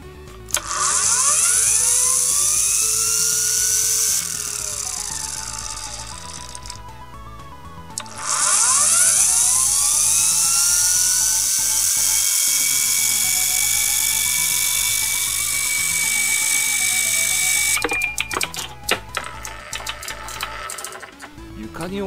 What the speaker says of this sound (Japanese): コマにはここ2つ穴が開いてまして、まあ、笛みたいな感じで音が鳴るんですよね。